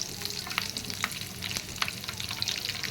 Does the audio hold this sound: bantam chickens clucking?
no